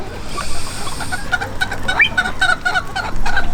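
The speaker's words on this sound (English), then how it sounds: "we have some old black mottled Ancona Bantam hens" Old black mottled Ancona bantam hens cluck in short, scattered calls over a steady low background, a few sharper clucks standing out near the middle.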